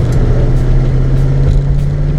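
A 1966 Ford Mustang with a 289 engine drives along in second gear, its steady low engine drone loud and close throughout, with a faint smoky exhaust note and no clear gear change standing out.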